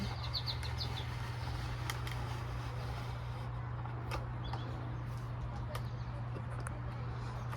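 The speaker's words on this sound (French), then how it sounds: "On a des beaux petits oiseaux." Small birds chirping outdoors in spring, scattered brief high tweets and calls, some distant, over a steady low hum and background noise.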